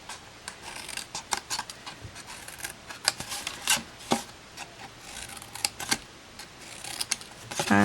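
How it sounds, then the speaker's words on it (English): Scissors snip through card for a gift box, a steady run of short, crisp cuts and light rustling close by, with no talk. "And then we're just going to snip up"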